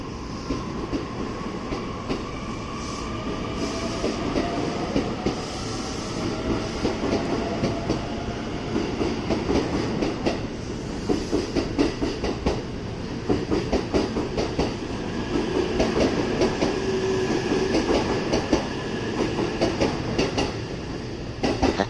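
A Joban Line train departs and runs along the rails, a continuous close rumble with rhythmic clickety-clack of wheels over joints and faint wheel squeal, steady throughout with no talk.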